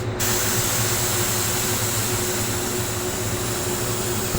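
Steady, continuous hiss of a paint spray gun at low pressure and half trigger, coating a Range Rover in silver, unbroken and fairly close for the whole stretch.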